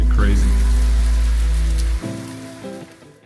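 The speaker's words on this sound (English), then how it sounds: "It's starting to rain." Rain starting to fall outdoors while someone unboxes bike parts, a steady hiss of drops on surfaces with a low rumble that cuts out partway, briefly mixed with faint tonal sounds.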